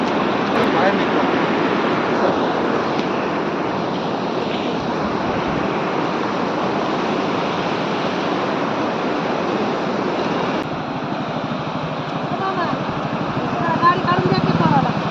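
Jog waterfall pours a steady, loud roar of rushing water that stays constant throughout, with a faint murmur of voices beneath it.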